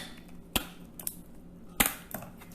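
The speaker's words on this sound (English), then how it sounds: "I'll just add in some ice" Ice cubes dropped into a bowl of chilled water, used to cool blanched spinach leaves, give a few sharp clinks and knocks spread over a couple of seconds, close and fairly quiet, with no talk.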